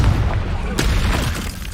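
A Confringo blasting spell explosion in Hogwarts Legacy, a heavy boom with a sharp burst near the middle, loud and close, layered over rumbling combat noise.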